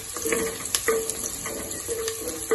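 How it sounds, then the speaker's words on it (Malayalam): Onions frying in a pan for ghee rice, with a steady low sizzle broken by several sharp scraping stirs of a spoon against the pan at close range. "സവാളൊക്കെ ഒന്ന് മൂത്ത് വരട്ടെ നല്ലോണം മൂക്കട്ടെ"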